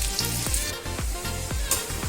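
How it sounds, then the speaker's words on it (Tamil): Elephant foot yam pieces frying in hot oil, a loud close crackling sizzle that runs steadily, with a few low rhythmic knocks repeating about every half second underneath. "எண்ணெய் வந்து நல்லா சூடானதும் போட்டுடலாம்."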